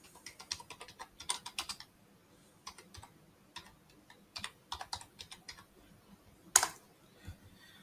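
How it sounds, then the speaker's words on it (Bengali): Keystrokes on a computer keyboard typing a short search phrase into a browser, quick irregular bursts of clicks with brief pauses, close and fairly quiet, one sharper tap near the end. "এখানে লিখব ওয়ার্ডপ্রেস ডাউনলোড।"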